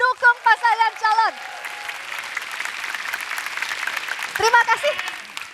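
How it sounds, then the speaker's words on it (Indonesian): Supporters of presidential candidates clap in a studio audience at a televised Indonesian election debate, a steady crowd applause running under and between a host's speaking voice. "Mana tepuk tangannya para pendukung pasangan calon?"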